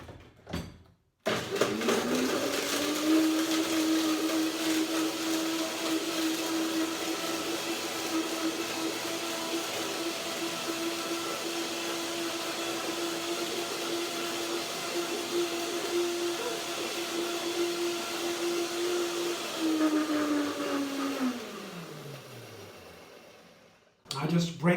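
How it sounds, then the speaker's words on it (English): A blender whirs loudly with a steady high motor whine for about twenty seconds, blending nuts, dates and water, then winds down and stops. "Blender dance."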